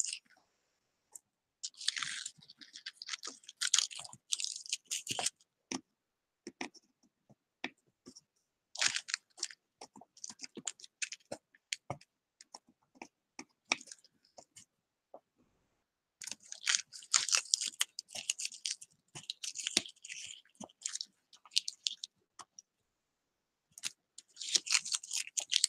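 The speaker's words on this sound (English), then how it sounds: "Get hold of the edge of the plastic and pull it loose." Thin plastic film being pulled and torn off a wood slab in short bursts of crisp crackling and crinkling, close up, with brief quiet pauses between pulls.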